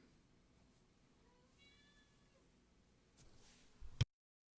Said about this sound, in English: Cat causing problems.